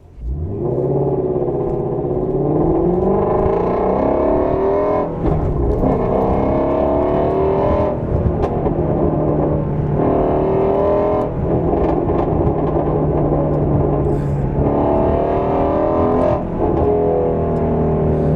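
Shelby GT350 Mustang V8 with Corsa X-pipe and resonator delete revs repeatedly, rising and falling in pitch with brief dips as the throttle is blipped and released, loud and close throughout.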